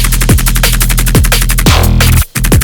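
A loud, dense electronic dance track pounds with a fast steady beat and repeating descending bass swoops, with a brief dropout just before the groove resumes.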